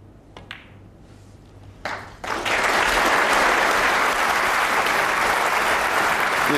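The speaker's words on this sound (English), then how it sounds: "The applause tells you that the frame is over." Snooker crowd bursts into sustained applause after a frame-winning total clearance at the 2008 World Championship semi-final, preceded by a few faint knocks, then a dense, steady wash of clapping filling the hall.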